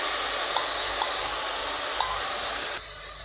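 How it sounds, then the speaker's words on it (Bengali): A marinated anchovy fish mixture sizzles in a wok with a steady, moderate hiss and a few light clinks of a utensil, the sizzle easing slightly at the end. "এবারে এই মাখানো আমি কড়ার উপর দিয়ে দিলাম।"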